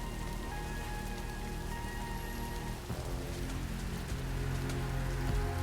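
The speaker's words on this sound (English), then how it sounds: "Listen to this and the rain and the vehicle rusting." Steady rain falls in the video game Death Stranding 2, a dense patter of drops on surfaces that holds constant and fairly loud from start to finish with no voices.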